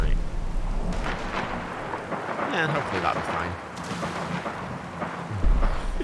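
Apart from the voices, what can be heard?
thunderstorm with lightning in a video game, Fallout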